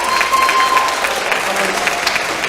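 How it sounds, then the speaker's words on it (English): Audience applause rings out at a middle school band fall concert for the beginning band, a steady dense clapping that fills the whole stretch at close, even loudness. "I want to give a round of applause to the beginning band"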